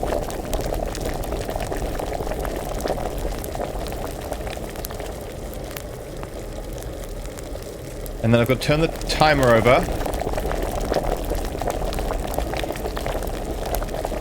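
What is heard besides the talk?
bubbling alchemy brew in Kingdom Come: Deliverance, video game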